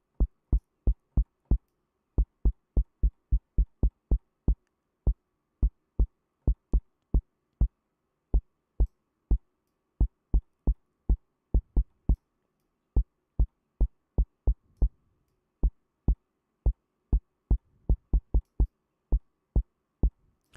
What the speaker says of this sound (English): And just like that, we've created a kick sound